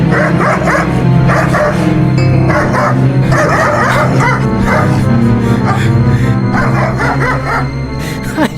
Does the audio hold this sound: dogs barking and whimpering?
yes